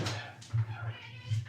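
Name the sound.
cat meowing to be let in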